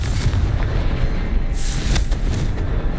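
Confringo fire spell blast in the video game Hogwarts Legacy, a loud, deep booming burst with rumbling low end and a crackling flare midway, continuous and close.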